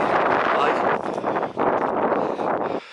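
Gusty, cold wind rushes and roars across the microphone in uneven bursts on a Gritstone Trail hike, loud and close, dropping off sharply at the end.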